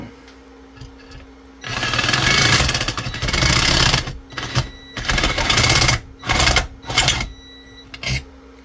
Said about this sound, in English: I'm just gonna have to ream that bottom hole out a bit.